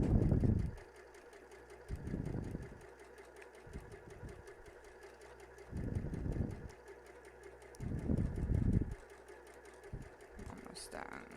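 Sewing machine stitching down the side of a full face mask in short bursts of whirring, three or four runs separated by pauses, close and moderately loud, with a person talking quietly in between.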